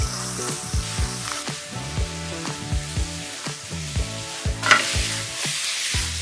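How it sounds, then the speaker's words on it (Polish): Apples and onion fry in a pan, sizzling steadily up close while repeated scraping stir strokes come in a loose, regular rhythm. "teraz tymi podsmażanymi jabłkami z cebulą"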